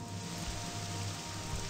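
Steady light rain falling in Morrowind, a continuous even hiss of drops with a faint low ambient hum underneath, no voices.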